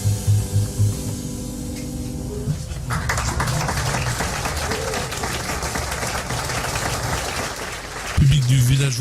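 Applause from an audience after a live jazz vocal performance at the Village Vanguard, heard as steady, dense clapping filling the room at close range. It begins after a sung passage and is interrupted near the end by other sound.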